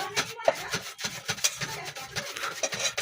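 Repeated rubbing strokes rasp against a surface in an uneven back-and-forth rhythm, close and moderately loud, with short pauses between scrubs.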